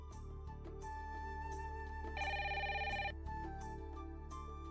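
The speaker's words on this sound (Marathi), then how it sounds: "अगं बाई, फोन." A telephone rings in a home in a Marathi TV serial scene, a steady electronic ringing bursts repeating clearly over background music, loud and close, with no talking during the ring.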